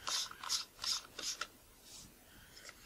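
Small metal threaded parts being unscrewed by hand from a Nikon Micro-Nikkor 60mm f/2.8 lens, using a rubber cone tool; four quick faint gritty clicking turns in a row, then a few softer scraping clicks.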